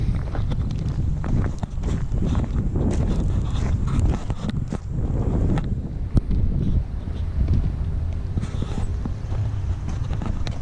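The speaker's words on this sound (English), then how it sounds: "It's very windy." Strong outdoor wind buffeting a microphone beside a Mitsubishi VR4 3000GT under repair, a steady, loud, rumbling roar with gusty surges throughout and no pause.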